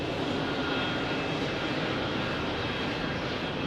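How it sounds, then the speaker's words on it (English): American Airlines Boeing 737-800 arriving at Phoenix Sky Harbor from Newark, a steady, moderately faint jet engine rumble and hiss that stays even throughout, with no talking. "Here's our American 737-800 arriving from Newark"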